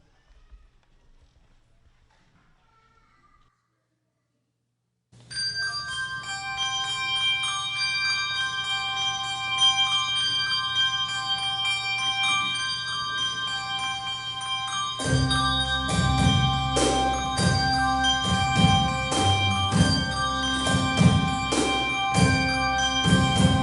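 A church handbell choir plays Come Now Is the Time to Worship, with ringing sustained bell tones entering after a few quiet seconds, then fuller rhythmic percussion and accompaniment joining midway, sounding steady and fairly loud throughout.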